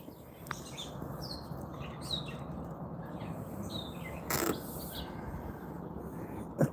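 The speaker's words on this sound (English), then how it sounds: "Can you guys hear the birds?" Birds chirping and singing outdoors near a house's front porch, a steady mix of faint, distant calls over a low background hum.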